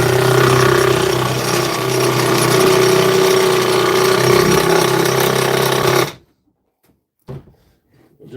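A cheap Temu power saw fitted with a new Bosch blade cuts steadily and loudly for about six seconds, then stops abruptly, followed by a short clatter in near silence.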